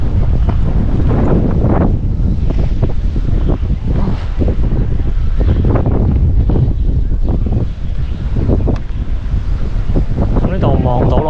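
Strong gusts buffet the microphone on an exposed lookout in Macau during stormy weather, a loud, continuous roaring rumble with rushing surges, while a person speaks briefly amid the blasts.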